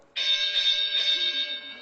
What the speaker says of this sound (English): This is my boxing bell.